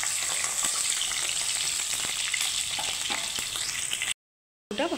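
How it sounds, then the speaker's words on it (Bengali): Cut potatoes frying in hot oil with whole cumin until reddish, for a Bengali jackfruit curry; a loud continuous close sizzle with occasional scraping stirs, then a brief silent break before the sizzling picks up again. "প্রথমে আলুটাকে আমি লাল করে ভেজে নেব।"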